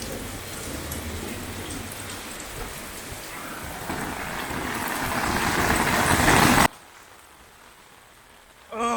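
Steady rain drums on an umbrella out in Wakayama, a dense close patter that swells louder before cutting off abruptly near the end, leaving a quieter wash of rainfall.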